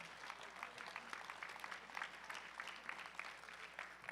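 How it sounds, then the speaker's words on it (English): Steady, even applause from an audience at a drug-free powerlifting meet, rather faint and distant, continuing without a break and with no talking over it. "Please give them a round of applause."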